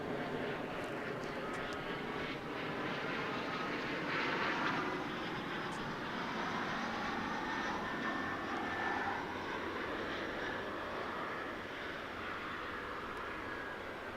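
A regional aircraft at DFW Airport rumbles at a distance, a broad low roar that swells slightly and holds steady before easing, with no talk over it.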